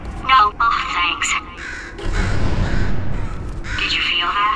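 Crow-like bird cawing in Portal 2, a few harsh caws in the first two seconds followed by rumbling game noise and a voice talking.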